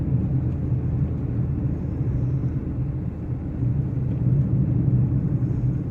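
A Hyundai Santro's engine drones steadily as the car climbs a winding hill road, a continuous low rumble holding even and fairly loud throughout with no voices.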